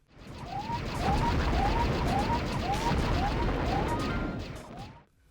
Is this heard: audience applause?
no